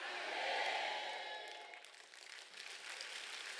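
A church congregation at an overnight repentance prayer meeting claps together in a dense, fairly loud burst that eases slightly, then carries on as a steady wash of applause.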